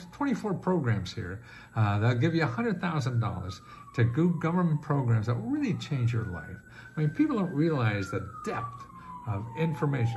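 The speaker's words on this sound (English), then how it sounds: "Oh, I think that's a siren for me." A siren wails faintly outside, its pitch rising and falling in long sweeps beneath someone talking steadily close up.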